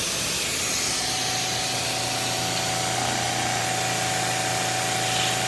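A pressure washer runs without its retrofit swivel fitted, a steady loud hissing spray over a constant motor drone with a fixed hum, unbroken and even from start to finish.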